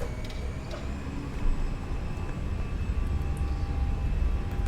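Airbus A321 engines spool to takeoff thrust in the Fenix flight simulator during a cold-weather departure, a steady, loud low rumble and roar with a faint whine on top.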